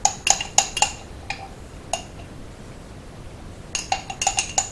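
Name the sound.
mixing rice pudding in a slow cooker pot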